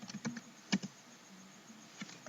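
Someone types a command on a computer keyboard, a few quiet uneven key taps with short pauses between them and no voices.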